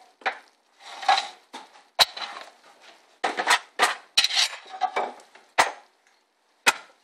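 A spoon or utensil stirring thickening sauce in a pot, giving irregular scraping and clinking knocks against the pot sides in short bursts separated by pauses, close and fairly loud with no talking.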